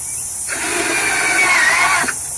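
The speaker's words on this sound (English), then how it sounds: "This one won't take as long to screw there because it'll go through this knot." A power drill drives a screw into wooden boards, boring through a knot, with one steady whining burst of about a second and a half that rises slightly in pitch, then stops.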